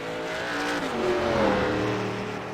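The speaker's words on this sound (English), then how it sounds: "It sounds like he's shutting the car off." Race car engine on a racing broadcast easing off, a steady loud drone with shifting pitch as the throttle is feathered or the motor cut, close and continuous with no talk.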